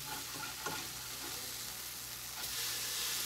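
French toast with cheese sizzling in a pan, a steady close crackling hiss with a soft scrape or two, heard alone without talk.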